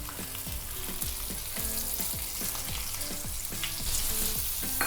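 Mackerel frying in oil with garlic, giving a close, steady crackling sizzle with continuous popping spatters throughout.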